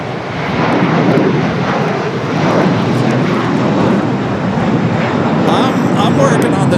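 Airbus A330 airliner engines roar steadily at Los Angeles International Airport, a loud, broad jet rush that fills the whole stretch, heard from an outdoor spotting position.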